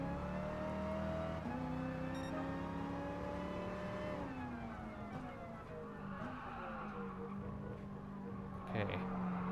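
A Ford GT40 race car in Gran Turismo Sport at full throttle, its engine climbing in pitch and snapping through several gear changes with a steady, rising drone and no voices.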